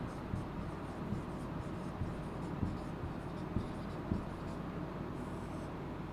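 Chalk or marker writing on a classroom board during a soil chemistry lesson, with scattered short strokes and taps over steady room noise and no talk.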